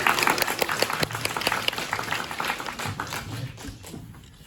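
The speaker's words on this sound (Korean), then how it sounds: "여러분 박수로 맞아주십시오" Audience applause welcoming guests at a Busan International Film Festival screening talk, a full crowd clapping loudly at first with a few sharper individual claps, then gradually thinning and fading.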